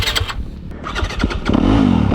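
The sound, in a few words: Yamaha YZ250F or Kawasaki KX250 dirt bike engine revving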